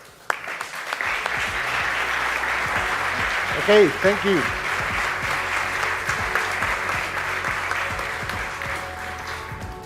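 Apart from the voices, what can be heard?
applause for the SBOW iFlex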